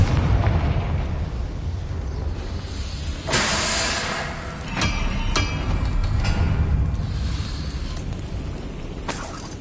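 Confringo fire spell bursts in Hogwarts Legacy gameplay: several sharp blasts and pops over a rumbling game soundscape, with a loud explosive hit near the middle and further bursts trailing off, no speech.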